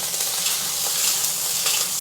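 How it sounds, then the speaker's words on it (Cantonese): Pork ribs fry in hot oil in a wok, a loud, close, steady sizzle and crackle that holds evenly throughout, with no speech over it. "先爆香排骨"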